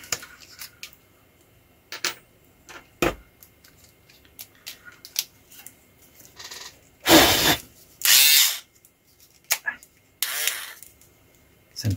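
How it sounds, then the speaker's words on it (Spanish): A small broken drill bit drills in two loud, short bursts, each lasting about a second, between quieter clicks and handling noises, with a person talking now and then. "para eso tengo este pedacito de broca que tengo acá"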